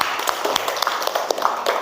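Brief burst of classroom applause, a group clapping steadily with many overlapping hand claps for under two seconds, fairly close and lively.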